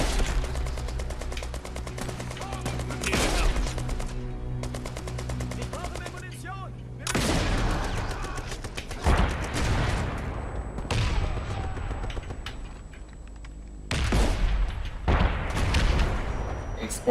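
Rapid bursts of gunfire in the video game Brothers in Arms 3 crackle in loud volleys with short pauses between, mixed with game effects and some background voice chatter.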